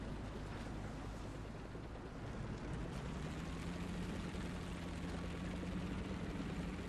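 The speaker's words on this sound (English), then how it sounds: "So you can see just airplanes after airplanes after airplanes coming back." Military aircraft engines drone steadily overhead in the War Thunder game during a tank battle, a continuous loud rumbling roar with a low engine hum rising midway, no speech.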